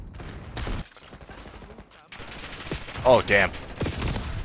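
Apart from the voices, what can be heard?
shotgun fire in video game Call of Duty Black Ops 6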